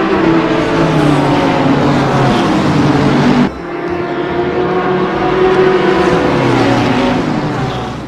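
A race car engine drones loudly and steadily with a harsh, revving roar. It cuts briefly after a few seconds, then resumes at a slightly lower level.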